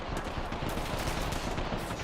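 Rapid gunfire in a shooter video game, a dense continuous burst of automatic shots that stays loud and close for the whole stretch, without any speech.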